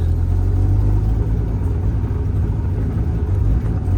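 A 1972 Triumph TR6 on a test drive gives a steady, loud low engine rumble and road drone that holds evenly from start to finish, with no voices.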